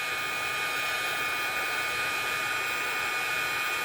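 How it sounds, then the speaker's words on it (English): A heat embossing tool blows with a steady, whining fan roar, like a hair dryer, melting embossing powder on a watercolor card. The sound is close and constant throughout, with no talking. "And then we just follow it along with our heat tool."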